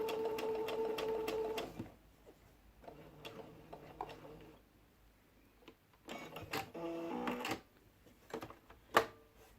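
A sewing machine stitches a seam in cotton face mask fabric, running in several bursts of steady mechanical whirring with short pauses between, plus a few sharp clicks near the end.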